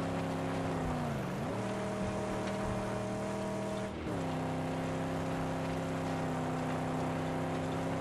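A car engine in the video game Mad Max labours uphill, a loud, steady droning hum whose pitch dips and recovers twice as the load changes, with no talking over it.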